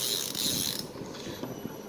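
A Shimano Ultegra 14000 Ci4+ spinning reel lets out line against its drag, giving a rapid, close, bright ratcheting buzz. It starts loud and evens into a softer run of dense clicks, with no voice over it.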